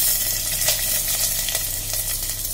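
Chopped garlic and chili sizzle in hot oil, a close, continuous frying hiss broken by small pops and crackles, with no voices over it.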